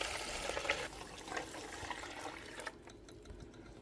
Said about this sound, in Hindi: डाला खूब सारा पानी।